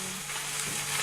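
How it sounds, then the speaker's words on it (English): Pasta sautéing in a hot pan gives a brief, continuous hiss of frying that stays even and fairly loud for about a second. "I saute the pasta just for like a minute"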